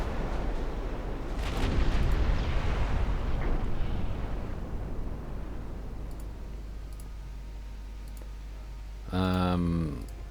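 Torpedo hits on warships in Ultimate Admiral Dreadnoughts, heavy rumbling detonations swelling and fading under a dense battle din, followed by a brief burst of clicking interface noise.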